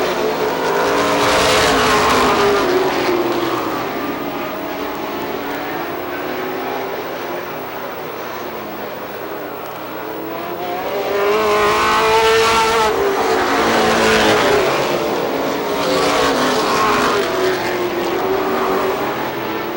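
Race cars roar around Star Speedway in New Hampshire. Loud engine noise swells as cars pass close, fades to a distant drone, then rises again with high revving, and no voices are heard.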